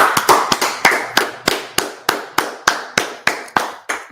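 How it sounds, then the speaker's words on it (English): Steady, evenly spaced claps ring out at an Israelite School of Universal Practical Knowledge gathering in Washington, DC, about a dozen sharp hand claps in a fast, regular beat, close and loud with no voices. "let's clap it up"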